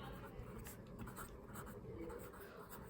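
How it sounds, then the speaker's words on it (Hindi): A teacher writes on a board during a chemistry lesson on extracting alumina from bauxite, giving a continuous faint scratching under a noisy room. "मैं यहाँ पे लिखती जाती हूँ"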